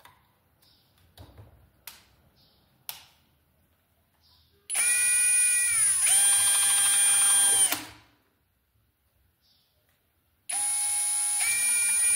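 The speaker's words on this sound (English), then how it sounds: "Now I can drill the holes." Two bursts of a power drill whining at high speed, each running a few seconds, drilling holes through tape to mount parts on an Ender-3 V3 SE 3D printer, preceded by soft clicks and handling noises, close by.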